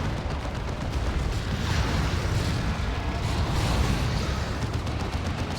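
An Incinerate ability explodes amid a Dawn of War 2 match between Ordo Malleus and Tyranids: a dense, continuous roar of fiery blasts and battle noise, loud and sustained with no pauses.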